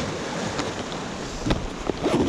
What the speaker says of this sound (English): Swell's picking up now with the tide flooding in.